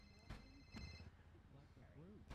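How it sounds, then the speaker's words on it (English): A phone rings in the video game GTA on the NoPixel roleplay server, with two short bright ring bursts heard faintly under voices and background chatter. "Your phone's ringing."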